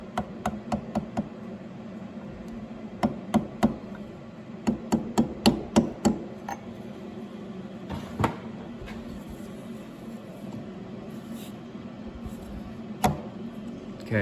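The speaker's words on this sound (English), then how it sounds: "I use a little brass punch and a soft hammer and just kind of tap this down in gently." A brass punch struck with a soft hammer taps a woodruff key into an Atlas Craftsman lathe spindle, giving clusters of sharp metallic taps in uneven bursts, closely miked and fairly quiet.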